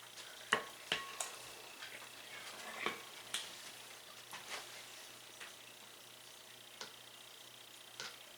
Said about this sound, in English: Make sure to scrape the sides to see if you can get any more pudding out of it